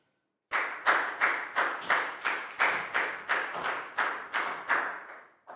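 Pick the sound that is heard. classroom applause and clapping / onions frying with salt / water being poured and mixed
classroom applause and clapping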